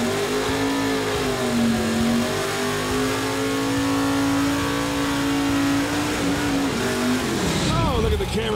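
A 1970 Chevy Nova doing a burnout, its engine held at a loud, steady high-rev roar for several seconds before the revs drop and waver near the end.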